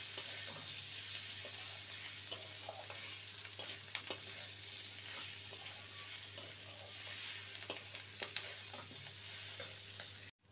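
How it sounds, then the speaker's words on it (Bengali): Soybean mince and potatoes sautéing with spices in a pan: a steady low sizzle with intermittent scrapes and clinks of stirring, close but quiet, ending abruptly. "মশলার সাথে সয়াবিনের কিমা আর আলুকে ভালো করে কষিয়ে নিয়েছি।"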